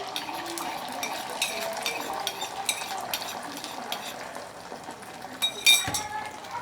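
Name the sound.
beaten egg with salt frying in oil in a pan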